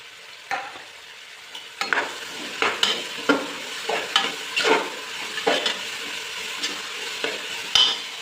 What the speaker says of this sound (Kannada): ಸ್ವಲ್ಪ ತರಕಾರಿ ಫ್ರೈ ಆಗೋದಕ್ಕೆ ಬಿಡೋಣ